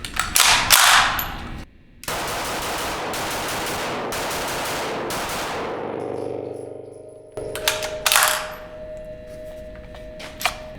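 A Kriss Vector SDP Gen 2 9mm pistol fires on semi-auto in sharp, loud bursts of rapid shots, a pause, then another quick string, with metallic ringing after.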